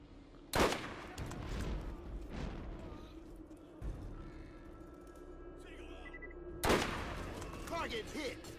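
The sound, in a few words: sniper rifle shots in the video game Borderlands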